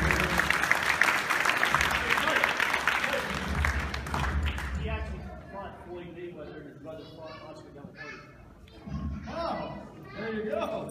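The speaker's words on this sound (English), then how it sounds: "big round of applause for Dominic Fillet" A room full of guests at a boxing hall of fame gala dinner applauds loudly for several seconds, then the clapping fades as someone speaks over light murmuring chatter.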